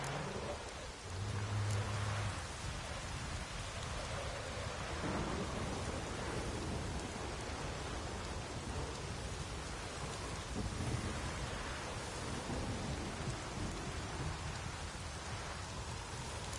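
Steady heavy rain and rolling thunder in The Witcher 3 video game, a dense continuous downpour with low rumbles swelling beneath it throughout, no voices heard.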